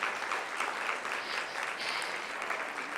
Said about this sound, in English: can y'all just please give a round of applause to Summit Elementary School and our principal, Standish